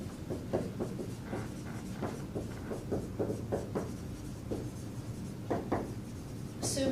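Marker or chalk writing on a board during a statistics lecture, a run of soft scratchy strokes and taps at a steady pace over a constant room hum, with no speech.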